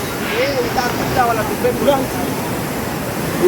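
Water rushes and pours on every side at a rainy hillside spot near Lonavala, a broad continuous roar close by, with voices and bird-like chirps faintly over it.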